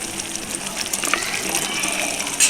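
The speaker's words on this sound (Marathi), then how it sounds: "आता मिक्स करून थोडंसं पाणी ॲड करते मी" Water pours into a pan of cashew curry gravy cooking on the stove, a steady close splashing gush for a couple of seconds, with no talking.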